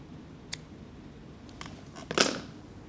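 Real scissors cutting a loop of rope: a few quiet, sharp snips and clicks spaced apart, ending in a louder, crisper cut, with no talking.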